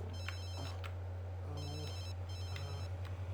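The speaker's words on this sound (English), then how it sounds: "I'm not gonna bother answering my phone" A phone rings in The Sims 3, a steady electronic ringtone repeating in short bursts over a constant low hum, fairly quiet, with no talk over it.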